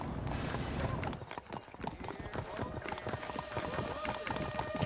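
Horse hooves clip-clop steadily in Red Dead Redemption, a rhythmic run of close, moderately loud footfalls on the ground with faint ambient game sound beneath.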